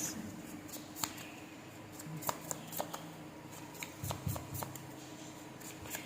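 Tarot cards shuffled by hand, a run of quick, light riffling and flicking taps at an uneven pace, close but quiet, with a low background hum and no clear talking.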